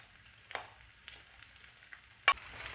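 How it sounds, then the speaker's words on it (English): Fried plantain stir-fried into palm oil rice in a pan: faint soft sizzle with a few quiet scraping stirs of a spoon, one sharper clatter near the end, then a brief louder hiss. "Stir fry this very well."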